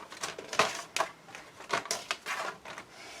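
Card being cut for a landscape memory book, heard as a series of crisp, papery cutting bursts at an uneven rhythm, close and fairly quiet, with no voices.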